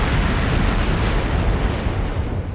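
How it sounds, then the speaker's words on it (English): A flash grenade goes off in the video game Trails of Cold Steel 3, a loud, sustained roar of broadband blast noise that holds steady and then slowly fades, with no voices. "Flash grenade! Everyone down!"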